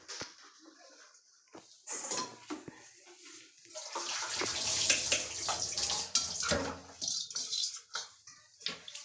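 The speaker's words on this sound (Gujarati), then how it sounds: "આનું પાણી આપણે નિતારી લઈ" Water splashes and pours in irregular bursts as it is drained off in a home kitchen, with brief gaps, faint clatters and a louder rushing stretch in the middle.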